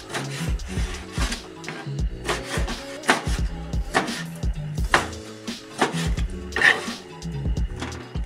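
A knife chops fresh-caught squid, its thin skin peeled off, into bite-sized pieces on a board, giving a steady run of close, sharp taps over background music.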